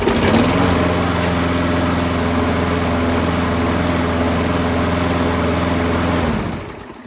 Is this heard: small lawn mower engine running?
yes